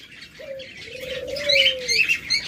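A lovebird gives a drawn-out whistling call, then a longer sliding one, over a busy background of high chirping from other birds nearby.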